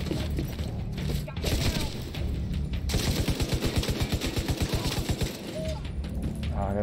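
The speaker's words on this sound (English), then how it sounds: "I'm loving the sniper rifle." Rapid gunfire from The Division 2 in a steady burst of evenly spaced shots near the middle, set against dense game noise and effects, with a voice talking over it.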